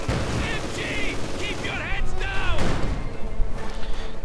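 Battlefield gunfire in a war video game, with Soviet conscripts advancing under a light machine gun's support: a dense, continuous clatter of shots and bursts with whistling overtones, loud and sustained throughout.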